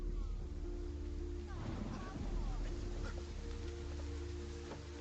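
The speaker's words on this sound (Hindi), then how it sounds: "इतनी बारिश हो रही है" Heavy rain pouring outside a shop, a steady, even broadband hiss that holds throughout at a low, distant level, with faint voices beneath it.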